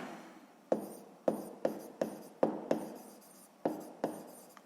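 A pen or pencil writes out a sixth-grade math solution by hand, sharp scratchy strokes and taps coming in quick separate bursts, close and clear against a quiet room.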